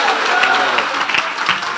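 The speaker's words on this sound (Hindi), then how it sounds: "बजाते रहे यीशु के जलाल के लिए" A church congregation keeps clapping at a Palm Sunday sermon, producing sustained loud applause from many people with a few sharper individual claps standing out and faint voices mixed in.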